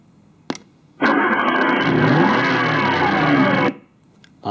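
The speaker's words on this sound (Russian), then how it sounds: "Звук включения, вот такой вот неожиданный, прикольный, очень интересный звук включения" Mini Clubman car-shaped portable speaker playing its power-on sound, a loud engine-like roar that starts abruptly, holds for nearly three seconds and cuts off sharply, preceded by a short click and followed by a brief new burst at the end.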